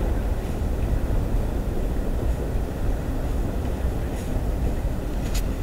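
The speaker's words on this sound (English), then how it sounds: "Here comes another CN train. Third one in a row." A CN freight train passes on the Dundas Subdivision in London, Ontario in winter, a loud, continuous rumble and rattle of rail cars rolling steadily close by, with no talk.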